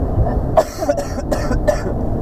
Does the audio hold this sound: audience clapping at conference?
no